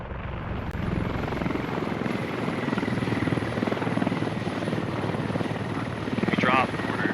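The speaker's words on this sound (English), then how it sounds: "That looks like the transport heli, just doing some ammo runs." A video game transport helicopter flying nearby with a loud, steady rotor drone throughout, and people talking briefly over it.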